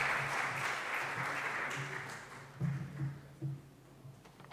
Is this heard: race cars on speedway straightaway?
no